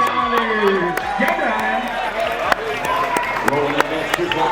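Crowd at a Barrett-Jackson car auction, with steady murmur and overlapping voices filling a large hall, scattered sharp knocks and clatters, and a close, continuous noisy ambience throughout.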